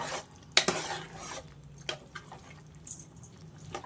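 A spoon stirs a potato and drumstick curry in a cooking pot, giving a few sharp metallic clinks early on, then softer scrapes and taps spread over a few quiet seconds.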